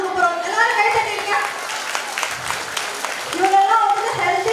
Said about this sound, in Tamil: எல்லாரும் கை தட்டிங்க.